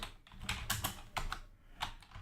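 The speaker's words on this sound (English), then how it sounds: "we have to type it here" Computer keyboard typing while writing C code, a short run of close, soft key clicks in quick irregular bursts with brief pauses.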